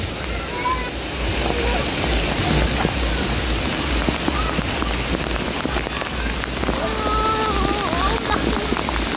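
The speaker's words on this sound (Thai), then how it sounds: "ฝนตกหนักมากเลย" Heavy rain pours down steadily at a water park, a dense, loud hiss of drops that continues without a break throughout.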